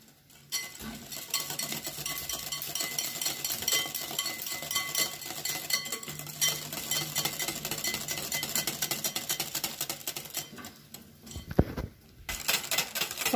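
Steady whisking of an apple and chocolate cake batter in a bowl just after a cup of cream goes in, continuous rhythmic scraping and ticking of the utensil against the bowl, close and unbroken, no talk.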